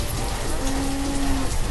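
A single cow in the farming video game Banished lets out a sustained low moo lasting under a second, moderately clear over a steady hissing, rain-like ambience with no voices.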